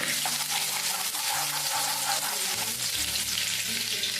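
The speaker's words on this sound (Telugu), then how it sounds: "ఉల్లిపాయలు వేగుతున్నాయి కదా" Chopped onions fry in hot oil for a chicken and chana dal masala curry, giving a loud, dense, steady sizzle that holds unbroken throughout, with faint low tones running beneath it.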